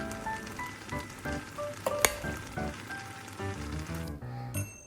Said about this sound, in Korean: 마늘과 양파가 흐물흐물해질 정도로 푹 졸여주세요